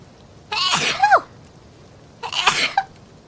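Two sneezes from a woman, the first a sharp burst ending in a high squeaky tail, the second shorter after a brief pause, close and clear over near silence.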